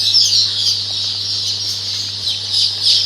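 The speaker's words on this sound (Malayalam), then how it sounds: "ഇത് നാടൻ ഇനത്തിൽപ്പെട്ട കോഴികളാണ്, നമ്മുടെ തനി നാടൻ, അതുപോലെ തലശ്ശേരി നാടൻ കോഴികളാണ്" Native Thalassery country chickens on a large egg-laying poultry farm keep up a continuous high chorus of cheeping and chirping, swelling slightly at moments over a low steady hum, with no talking.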